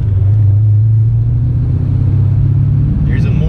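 A 600 HP LS7-powered Z06 bucks with cam surge while driving on a pure math tune, producing a loud, close, steady low engine drone that wavers unevenly, with voices talking over it.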